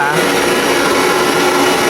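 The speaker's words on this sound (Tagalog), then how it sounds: "Nakalinis lang tong electric fan na to" A freshly cleaned electric fan runs with a steady, loud whirring hum that holds unchanged for the whole stretch.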